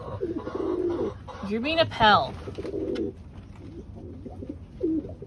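Pet pigeons coo in repeated low, throaty phrases while a person talks to them close by during a morning feeding indoors.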